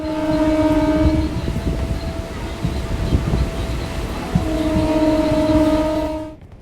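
A train sits at a station platform with heavy rolling rumble and steady mechanical noise, while sustained tonal horn or whistle blasts sound at the start and again near the end, loud and close.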